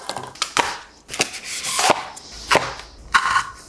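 Squeaky scraping and rubbing of a wooden dowel pulled out of stacked styrofoam cake dummies, in several short strained pulls with dry creaks between them.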